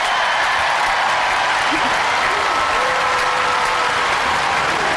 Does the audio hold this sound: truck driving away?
no